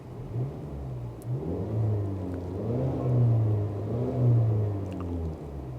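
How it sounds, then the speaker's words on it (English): Turbocharged engine of a 2024 Mazda 3 hatchback heard from inside the cabin, a smooth low hum that swells and eases a few times as the car accelerates. "the engine note inside the cabin actually sounds very, very nice"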